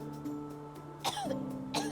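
A character in the medieval video game Medieval Dynasty coughs in a couple of short, rough bursts over steady, faint background game tones.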